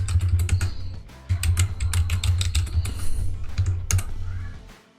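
Rapid, steady clacking of a computer keyboard as a password is typed, close and fairly loud, with a brief pause near the start and a low hum underneath.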